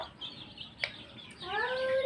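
Free-ranging Bangladeshi country chickens clucking nearby in an open yard, a brief squawk partway through, then a rising run of clucks toward the end.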